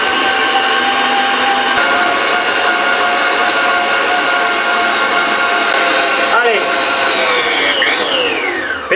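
A stand mixer kneads brioche dough with its dough hook, a loud, steady motor whine with a constant hum and a brief shift in pitch near the end, heard close up with a voice speaking over it.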